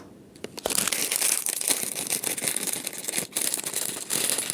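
Packet of Korean-flavor instant noodles torn and opened by hand, sharp plastic crinkling and rustling in bursts up close, continuing for several seconds.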